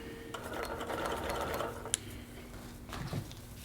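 A sewing machine stitches quilt layers together, running in a steady mechanical whir with a faint tick partway through, close up and with no talking.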